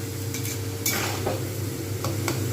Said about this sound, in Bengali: তারপর এগুলো পুরো সোজা তেলেতে ঠিক এইভাবে কন্টিনিউ ভাজতে হবে